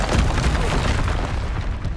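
Expelliarmus spell cast in the video game Hogwarts Legacy, a short dense whooshing boom with rumbling low energy filling the whole two seconds, loud and close with no voice.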